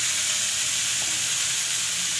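Khoya (mawa) frying in a hot kadhai gives a steady, close sizzle with a constant hiss throughout.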